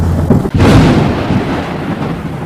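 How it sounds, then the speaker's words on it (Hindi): Heavy rain and rolling thunder in an animated Hindi story, a loud thunderclap breaking at about half a second over a steady wash of downpour, with no voices. "बारिश काफी तेज हो चुकी थी।"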